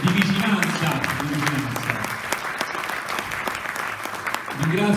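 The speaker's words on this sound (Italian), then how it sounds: "farei un applauso che vuole essere un applauso di vicinanza" An audience at a memorial music event claps in tribute to earthquake victims, a dense, loud round of applause that fills the whole stretch and swells again at the end.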